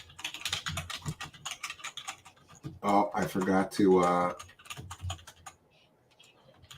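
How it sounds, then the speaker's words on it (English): Rapid clicking keystrokes rattle on a computer keyboard throughout, close to the microphone, while a person briefly speaks over them in the middle. "People complain when they can hear my typing."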